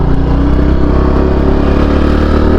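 A Honda Pop 110 motorcycle engine with a strange noise and vibration idles and runs steadily nearby, a loud continuous rumble with a rough, uneven rattling texture throughout.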